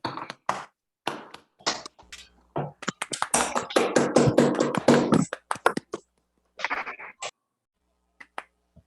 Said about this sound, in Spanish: Les pido a todos, por favor, que abran su micrófono y le demos un aplauso a Emilio por la charla.